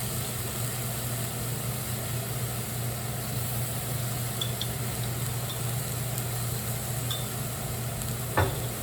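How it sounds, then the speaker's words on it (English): Garlic being cooked for shrimp fried cauliflower gives a steady, even sizzle in a hot pan with a constant low hum beneath it and one brief clatter near the end. "I'm also going to add in some garlic now"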